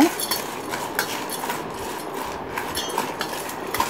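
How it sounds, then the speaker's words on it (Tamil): A ladle stirs chana dal fry (kadalai paruppu) with salt and chili powder in a pan, giving steady close scraping and soft metallic clinks throughout, with no talking. "ஒரு கரண்டி எடுத்து மிக்ஸ் பண்ணி விடுங்க."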